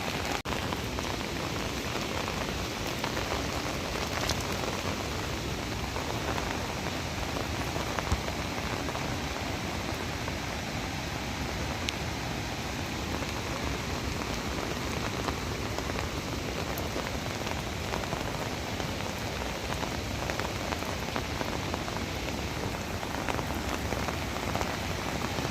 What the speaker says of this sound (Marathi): आणि बघू शकता ह्या साईडला असा काही व्ह्यू आहे मस्त की पाऊस पडतोय.